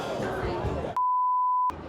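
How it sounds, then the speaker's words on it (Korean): A restaurant vibrating pager at an Amish-country buffet gives one steady electronic beep of under a second, breaking in sharply after talk and then cutting off. "진동벨의 위험"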